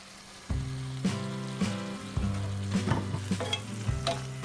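A spoon stirs a fish marinade with black pepper and sugar in a bowl, giving several close, repeated scraping and clinking strokes in an irregular rhythm, with no talking.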